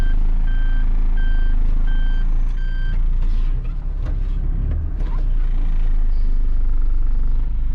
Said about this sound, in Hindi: मैं इधर गली में आ गया हूँ और गाड़ी ज़रा पार्क कर लूँ।